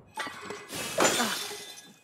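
A weapon breaks in The Legend of Zelda: Tears of the Kingdom, a short bright shattering crash with glassy tinkling that fades out, alone with no voices.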